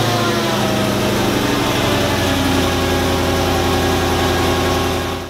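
A Mercedes E55 AMG engine, fitted with aftermarket headers, idles steadily at close range after startup, a continuous loud rumble with a fast even pulse throughout.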